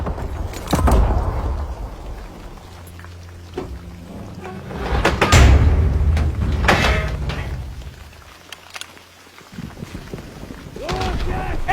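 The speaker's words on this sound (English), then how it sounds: "Get that door open." A heavy door creaks and scrapes open in Call of Duty WWII during the Hürtgen Forest battle, with mechanical clanks and rumbling under distant gunfire and battle noise, plus a brief voice.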